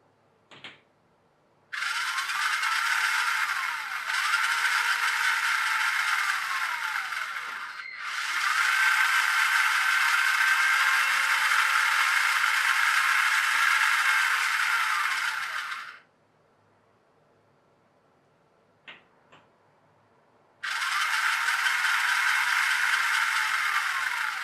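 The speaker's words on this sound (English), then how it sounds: "Right, just trying the drive motor." The drive motor of a Linde forklift truck converted to remote control whirs in long bench-test runs, a steady mechanical whine with faint rattling that starts and stops abruptly three times, with brief clicks in the quiet gaps.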